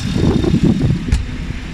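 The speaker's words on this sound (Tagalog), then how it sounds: "pinandar na natin yung makina nito. Napaka smooth ng kanyang andar." A Suzuki Every Wagon DA64W with its K6A 660cc 12-valve turbo engine runs at idle, a close, steady low rumble with a faint high whine and one brief click.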